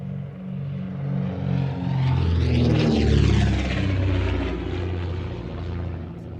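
A twin-engined Comet aircraft passes an air show crowd, its propeller engines rising to a loud, close roar with a sweeping pitch shift before easing away.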